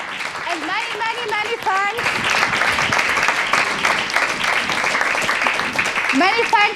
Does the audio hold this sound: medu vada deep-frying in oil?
no